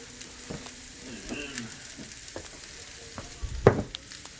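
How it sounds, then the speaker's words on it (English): Mushrooms and onions fry in a pan for a Philly cheesesteak stuffed bell pepper filling, with a soft steady sizzle, a few quiet stirring scrapes and one sharper clatter near the end; no voices. "So then we're going to add our mushrooms."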